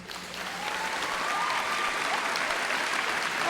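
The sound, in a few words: audience applause during graduation speech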